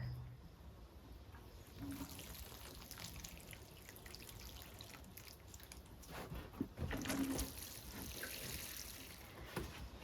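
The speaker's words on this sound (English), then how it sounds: "Let's give these poor thirsty flowers some water." Thirsty flowers in garden pots with drainage holes are watered, giving a steady, soft patter and trickle of water soaking into soil, rising slightly partway through, with faint outdoor background and no talk.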